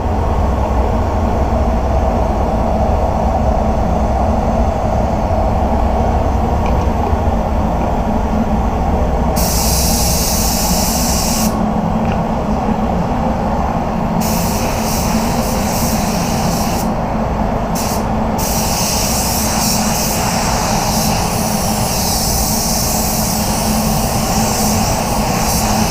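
Spray gun spraying VOC top coat paint, a steady roaring air hiss throughout, with bright higher bursts cutting in and out as the trigger is feathered, no voices.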